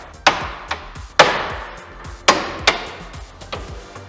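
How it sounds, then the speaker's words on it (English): Hammer taps on the steering knuckle of a Polaris RZR XP where the tie rod end passes through, several sharp metallic knocks spaced irregularly, close and clear with no talking. "take a hammer and just tap right on the side of the knuckle where the tie rod end goes through"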